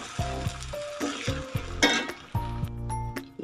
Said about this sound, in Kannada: ಇದನ್ನೆಲ್ಲ ಒಂದು ಸಾರಿ ಒಗ್ಗರಣೆಯಲ್ಲಿ 1 ನಿಮಿಷ ಫ್ರೈ ಮಾಡ್ಕೊಳ್ಳಿ.